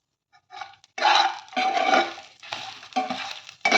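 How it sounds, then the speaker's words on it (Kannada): Grated coconut and tamarind are mixed in a pan with a spoon, giving several scraping, clattering strokes in bursts separated by short pauses, close and clear with no talk. "ಸ್ವಲ್ಪ ಕೊಬ್ಬರಿ ತುರಿ, ಹುಣಸೆಹಣ್ಣನ್ನು ಮಿಕ್ಸ್ ಮಾಡ್ಕೊತೀನಿ"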